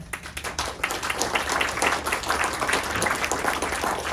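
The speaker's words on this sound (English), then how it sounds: "I just want to personally give them a big round of applause" A crowd at a neighborhood association meeting claps steadily for several seconds, a dense wash of applause at moderate distance with no voices over it.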